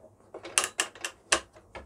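A lift-up section of a dual-level model railway is lowered and guided into place, producing a handful of sharp mechanical clicks and clunks at irregular intervals, close and fairly quiet.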